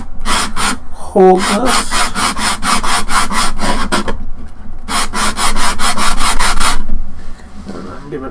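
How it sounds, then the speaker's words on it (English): Wet/dry sandpaper rubbed back and forth across a 3D printed model, loud rapid rhythmic rasping strokes in two bursts with a brief pause between; a voice speaks briefly. "So, this is wet dry sandpaper, but I don't want to make too much of a mess."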